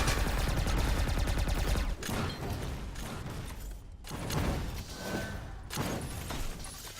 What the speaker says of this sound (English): Finally seeing some really solid use of grenades and rockets in tandem here from Lugi